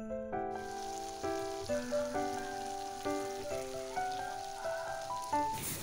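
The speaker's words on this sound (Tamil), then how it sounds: "பாருங்கள் இந்த மாதிரி நல்லா கொதிக்க விடுங்க. அந்த தண்ணியெல்லாம் மசாலா எல்லாம் சுண்டிட்டு வந்துடும்." Mutton liver masala simmers and sizzles in a pan, a steady frying hiss and bubbling crackle running underneath a melodic tune that plays over the top.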